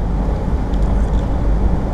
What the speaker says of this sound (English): The engine noise in the truck when you drive it is actually not bad at all.